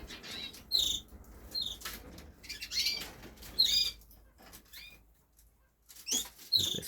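Pet canaries in an indoor bird room give scattered high chirps and short squeaky calls at close range, with quiet rustling and flutters between them.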